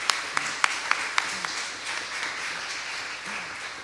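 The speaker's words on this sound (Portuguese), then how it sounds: "Vamos aplaudir." Audience applause at an academic image-week event, honoring a professor: a dense wash of many hands clapping close by, with a few sharper individual claps standing out at the start and steady through the end.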